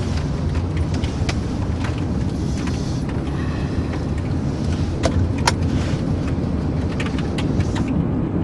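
A car being driven gives a steady, close interior rumble with broadband road and wind noise, unbroken throughout, with a few faint clicks and no talk.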